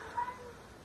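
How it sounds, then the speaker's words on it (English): A house cat gives a short, faint meowing cry, wanting to play, heard once against a quiet background. "My cat is crying because it wants to play."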